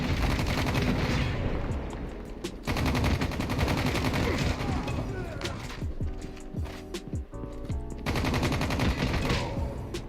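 The BK weapon firing in the Call of Duty Mobile video game: loud, dense bursts of rapid gunshots that go on almost without pause, with brief gaps between volleys.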